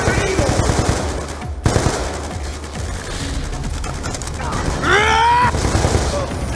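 Rapid bursts of automatic gunfire in the Call of Duty Black Ops 2 video game, dense rattling volleys with mechanical clatter and a sweeping whoosh, mixed with shouted voices.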